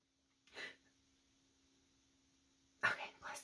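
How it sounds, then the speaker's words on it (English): A person sneezes twice, a short burst near the start and a stronger, sharper one near the end, with quiet room tone and a steady hum in between. "I feel like I have to sneeze"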